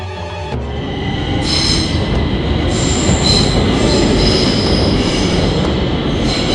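A train rolls along with metal wheels squealing loudly on the rails, a continuous high screech over a rumbling roar that persists throughout, with no voices.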